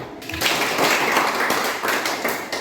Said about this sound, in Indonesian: tepuk tangan untuk Charlie dari kelompok 2